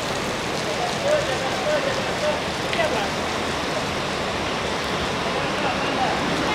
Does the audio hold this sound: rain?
yes